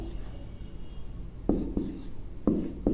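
A pen scratches out letters on paper, writing each one and then striking it through, with short bursts of scraping strokes under a low steady background hum.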